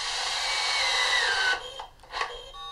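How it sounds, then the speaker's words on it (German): Cordless screwdriver with its clutch limiting torque drives a tee nut into wood, a loud close whirring motor run that bogs and pitches down for about a second and a half, then short bursts and ratcheting clicks. "Am besten den Akkuschrauber so einstellen, dass die Kupplung das Drehmoment begrenzt."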